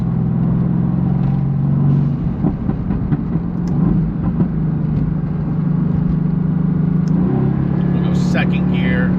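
A twin-turbo car engine revs hard in second gear on a canyon drive, a loud steady drone that climbs in pitch over the clip, with a brief shift near the two-second mark, heard from inside the car.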